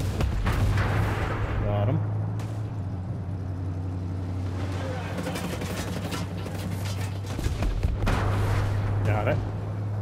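In-game explosions and gunfire from Ghost Recon Breakpoint boom and crack in a continuous heavy barrage over a low engine drone, with dull blasts near the start and end.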